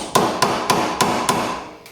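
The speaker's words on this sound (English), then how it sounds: "I'm actually gonna knock this in a little bit more with a hammer." Hammer knocking coilover hardware into place on a BMW E36 during a suspension install, five sharp metallic strikes at an even pace, close and loud with no talking.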